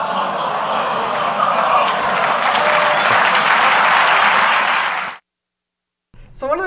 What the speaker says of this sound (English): the crowd goes totally wild and they're applauding this guy like crazy